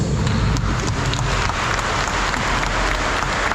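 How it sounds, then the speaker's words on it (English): A room of people at a ceremony for graduates and their parents breaks into loud, sustained applause. The clapping forms a continuous, even roar with no speech over it. "Let's give them a round of applause."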